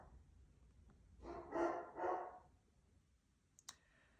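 Dogs bark twice in the distance, two muffled barks in quick succession over a quiet background, followed by a couple of sharp clicks.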